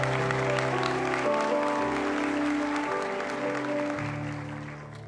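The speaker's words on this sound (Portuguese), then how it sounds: "aplauda o Senhor" A church congregation applauds during a worship service, broad clapping spread across the room while sustained organ or keyboard tones hold underneath, fading slightly toward the end.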